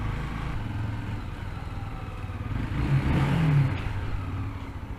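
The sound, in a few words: motorcycle engine revving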